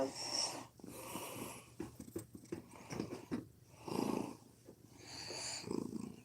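A pet cat purrs close by, a soft rumbling purr with breathy, wheezy textures that swell and fade across the clip, with quiet background noise around it.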